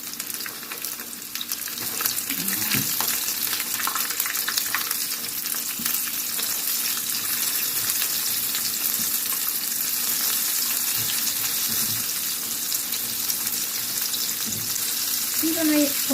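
Chicken fries in hot oil with a loud, continuous crackling sizzle that swells after the first couple of seconds and holds steady, heard up close with no voices.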